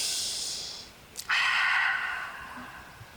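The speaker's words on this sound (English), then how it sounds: "Breathing nicely." A yoga instructor breathing during a vinyasa flow class in a Romanian forest: a soft airy exhale, then a short sniff and a longer, louder breath out, close and alone without talk.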